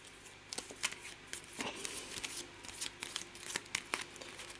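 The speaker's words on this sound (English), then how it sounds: "Give it a whizzy shuffle." A deck of cards from the board game A Touch of Evil being riffled and shuffled up close, a quiet run of sharp flicking bursts and snaps in uneven rhythm with no talking.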